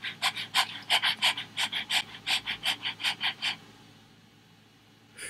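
A dog pants in rapid, rhythmic bursts, about eighteen quick breaths up close, then falls silent before a final short puff.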